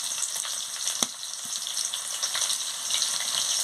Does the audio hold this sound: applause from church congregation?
no